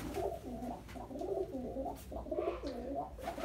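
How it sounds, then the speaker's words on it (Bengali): Pigeons coo steadily in a loft, with several overlapping rolling calls repeating close by at a soft, even level and no talk over them. "অনেকগুলো কবুতর ভাইয়ের।"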